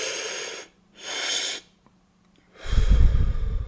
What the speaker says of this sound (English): Proper breathing, which means breathing from your stomach into your chest